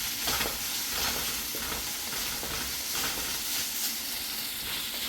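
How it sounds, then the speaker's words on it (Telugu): Ingredients for noodles fry and get stirred in a pan, a steady close sizzle and hiss with soft scraping stirs repeating throughout at a moderate level. "ఇప్పుడు పచ్చివాసన పోయేదాకా వేయించుకోండి"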